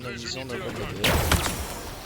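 Gunfire from the video game Halo Infinite, a burst of loud rapid shots mixed with game sound, under a player's talk.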